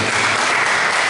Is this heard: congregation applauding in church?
yes